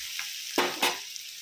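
Onion frying in a pan, with two short, close bursts of sizzle and stirring over a faint background hiss, no voices.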